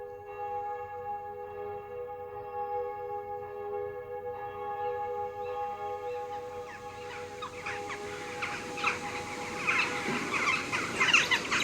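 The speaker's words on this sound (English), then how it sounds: "the first sounds I heard were not birds, but the bells of Aldeburgh Parish Church" Bells of Aldeburgh Parish Church ring from nearly two miles away, faint sustained tones holding steady, gradually giving way to rising calls of roosting rooks, jackdaws and pheasants that grow busier toward the end.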